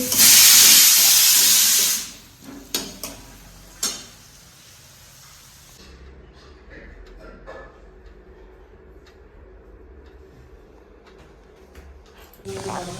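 Aloo posto, a potato and poppy seed curry, set on the stove in a home kitchen, giving a loud steamy hiss at first that drops to a soft, low bubbling simmer with a few scattered clinks.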